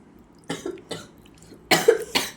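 Four close coughs, the first two lighter and the last pair harsher and louder, with brief pauses between them.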